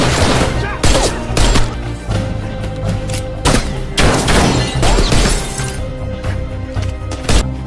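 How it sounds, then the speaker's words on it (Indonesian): Loud, rapid gunfire and shattering impacts from a film fight scene in the action movie The Man From Nowhere, with dense bursts of shots and breaking sounds overlapping music and effects throughout. "Bola mata tersebut Jamal tembak"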